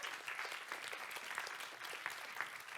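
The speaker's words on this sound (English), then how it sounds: "A huge round of applause to all our pitches" An audience at a startup pitch competition final gives a round of applause to the pitch presenters, fairly faint and distant, with a steady spatter of many hands clapping throughout.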